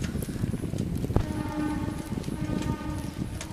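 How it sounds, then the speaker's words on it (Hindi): A freight train rolls past Vapi railway station, giving a steady rumbling roar for the whole stretch with a sharp knock partway through and faint sustained tones layered on top. "साथ में एक ये मालगाड़ी भी जा रही"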